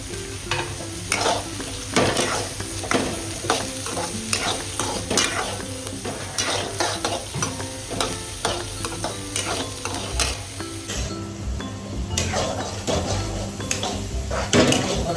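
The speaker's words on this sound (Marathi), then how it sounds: "असं परतून घ्यायचं मसाल्याला." Garlic and masala are stir-fried in a pan for paneer soya bhurji, with steady, loud scraping strokes of a spoon against the pan over a continuous sizzle and no talking.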